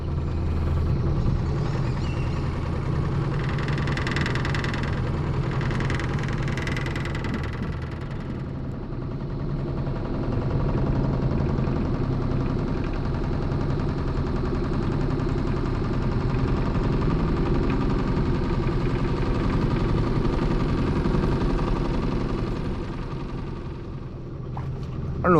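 Homemade houseboat engine running steadily while cruising at dusk, a continuous low droning rumble throughout with no talk over it.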